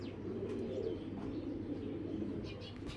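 Two large imported racing pigeons coo softly nearby, low rolling murmurs running continuously with a few faint chirps on top and no clear speech.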